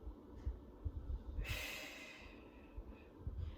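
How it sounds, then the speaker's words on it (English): Slow, audible breathing during a Pilates exercise, a long sharp inhale through the nose followed by softer exhales, close and alone with no talking. "Breathe in."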